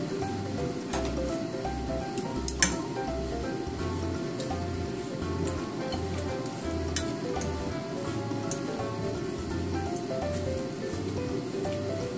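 Drained bitter melon (goya) sizzles and bubbles steadily in a hot pan with sugar for a simmered tsukudani, a continuous close frying hiss with faint stirring clicks and no talk.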